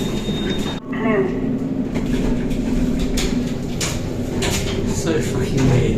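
Kone-modernised express lift doors slide shut in a department store, a brief swish followed by a steady hum of the moving car, fairly near, with a voice speaking over part of it.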